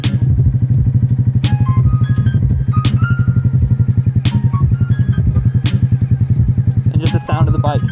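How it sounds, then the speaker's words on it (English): A motorcycle engine idles in rapid steady pulses and takes on load as the clutch is slowly released, with a few clicks and clunks over the loud close running engine and a shift near the end. "So basically it puts a load on the engine now because we're trying to go forward."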